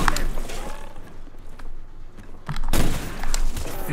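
Gunfire from Call of Duty Zombies on the Nacht der Untoten map, a string of dense shots and bursts with thuds that get louder toward the end, mixed with game noise and some talk.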